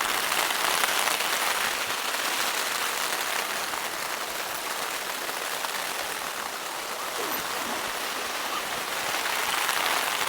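Rain patters steadily on a small tent at a winter camp, a soft even hiss of drops on fabric that holds constant throughout, with no clear speech.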